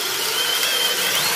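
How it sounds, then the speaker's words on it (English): A FLEX hammer drill in turbo mode bores through a 2x4, giving a steady, loud whine with a bright high-pitched tone that holds throughout, with no talk over it. "Even the highest end drills have trouble with this task, drilling through a 2x4 that fast."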